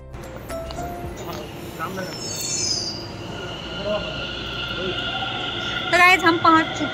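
A metro train rumbles and its wheels squeal on the rails as it pulls into a station, with people talking underneath and a brief high electronic chime near the end.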